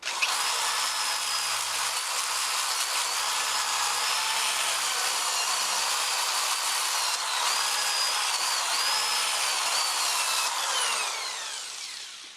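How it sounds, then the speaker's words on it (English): A sander pad spun by a drill roughs in the wooden back of a mandolin, a steady, close high-pitched whir and abrasive hiss running continuously for about twelve seconds before winding down at the end. "I'm simply going to rough that in with a sander pad on the end of a drill"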